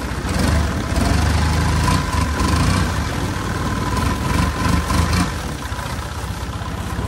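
A boat engine with a turbo revs on a river in Bangkok, a loud, close rumbling drone that surges and swells for several seconds before easing to a lower idle near the end.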